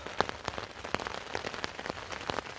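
Rain patters steadily on a tent at a riverside campsite on the North Saskatchewan River. Close, dense drops tap irregularly across the fabric in a continuous soft crackle, with no talking.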